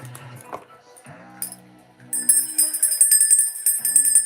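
A small bell rung during a tarot reading gives bright metallic clinks and a ringing shimmer that starts halfway through and continues to the end, after some brief speech.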